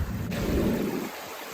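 Water rushes steadily along a gold-bearing creek in Wisconsin in a broad, continuous wash that fades a little near the end, with no voices.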